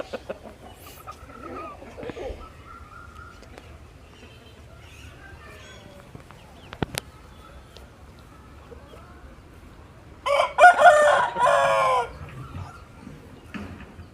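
On a poultry farm selling roosters, one rooster lets out a loud, close crow near the end of the clip. Before it there is a long quiet stretch of low farmyard background and faint, scattered sounds.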